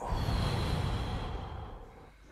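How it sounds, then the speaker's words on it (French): A single deliberate deep exhale during a breathing exercise, a long breathy rush that starts fairly loud and close and then gradually tapers off. "Alors une respiration"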